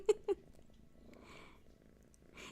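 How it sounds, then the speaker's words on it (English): A kitten purrs in a faint, low, continuous rumble at close range, preceded by two soft taps and accompanied by a little rustling. "It's a kitten. I'm fostering 2 kittens."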